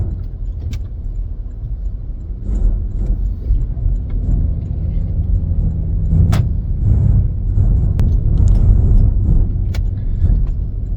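A rebuilt Porsche Cayenne is driven in sports mode, its engine and road rumble continuous and fairly loud from inside the cabin, rising gently as it climbs through smooth, barely noticeable gear changes, with occasional small rattles and clicks.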